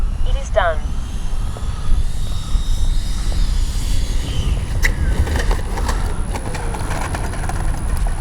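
A Freewing 90mm J-10 RC jet comes in to land, its engine a broad, continuous rumbling roar heavy with wind-like noise, with brief voices over it outdoors.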